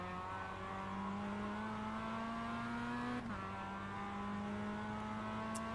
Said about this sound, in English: He downshifted too soon, revved too high, blew the motor.